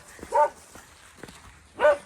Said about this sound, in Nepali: किन भुक्छ